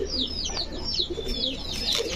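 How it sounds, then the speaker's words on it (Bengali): Giribaz racer pigeons, three pairs kept nearby, coo in soft, repeated throaty calls, overlaid by thin high chirps that sweep down several times over a low background hum. "আমার পিছনে তিন জোড়া কবুতর"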